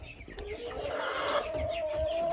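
Marans chickens in a farmyard flock, soft close clucks and a drawn-out rising call over a low background murmur, brief and moderately quiet.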